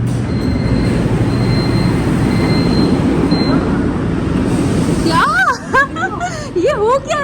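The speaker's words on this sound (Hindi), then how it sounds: "नेक्स्ट ट्रेन आई है" A metro train pulls into a station with a steady loud rumble and high wheel squeal, then voices talk over the fading noise near the end.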